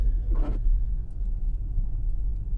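A Ford Mustang Mach-E Select AWD slides sideways around a snowy corner, giving a low, steady road rumble with a brief hissing burst near the start and no talk.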